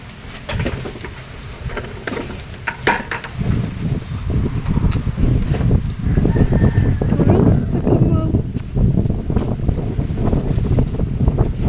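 Strong storm wind buffets the microphone with a continuous loud roar and low rumbling gusts, building toward the end, with muffled voices faintly under it.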